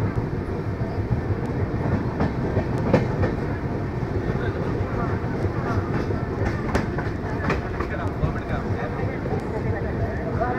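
The Dehradun Jan Shatabdi Express rolls into Meerut City station with a steady rumble and rhythmic clickety-clack of wheels over rail joints, under a person talking.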